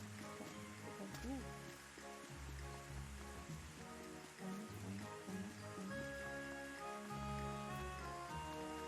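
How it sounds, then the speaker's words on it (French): Steady rain falls in the farming life-sim game Rune Factory 5, a soft continuous patter spread under a louder backdrop of in-game music with a pulsing bass line. "il semblerait que la pluie soit de la partie aujourd'hui"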